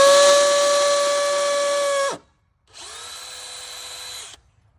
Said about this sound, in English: we're gonna put our screw or our drill in here